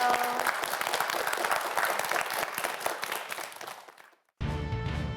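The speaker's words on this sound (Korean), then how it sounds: "박수 한번 보내주세요" Studio audience at a televised school quiz show applauds steadily for about four seconds, dense clapping that fades out, followed by a brief silence and then a music sting.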